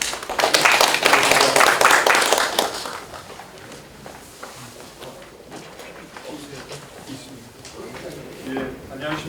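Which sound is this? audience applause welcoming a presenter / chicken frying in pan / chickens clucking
audience applause welcoming a presenter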